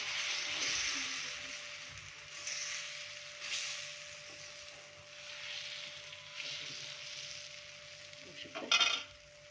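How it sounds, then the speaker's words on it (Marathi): Rava dosa batter sizzling on a hot pan, a steady bright hiss of frying that swells and eases as the batter is spread, with a few light clinks of utensil against metal near the end. "आता जे आपण बॅटर तयार केले ते यावर ॲड करून घेऊया"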